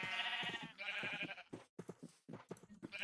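Sheep in Minecraft bleat in a quick series of nasal, wavering calls, moderately close and fairly quiet, with short pauses between the cries.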